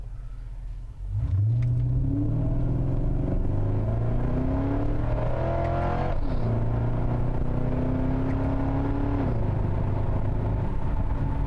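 A Ford Crown Victoria engine revs hard and rises in pitch, with several abrupt paddle-shifted gear changes through a modified transmission marked by sharp drops and hard banging clunks, loud and close throughout.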